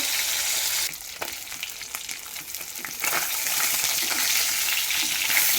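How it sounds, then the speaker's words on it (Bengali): Fish fries in a pan with a steady, close hiss of hot oil, dipping briefly then building again, broken by sharp spits and occasional stirring clatter, with no talking. "মাছটা হয়ে গেছে ভাজা"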